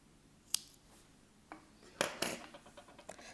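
Scissors cut crochet yarn with a handful of faint, close metallic snips and clicks spread over a few seconds, the busiest cluster near the end, and no voice heard.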